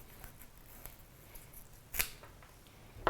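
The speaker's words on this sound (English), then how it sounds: "So I'm gonna take it, I'm gonna cut it back first" Pruning shears make two crisp snips, one midway and one at the end, cutting back new growth on a houseplant in a quiet room.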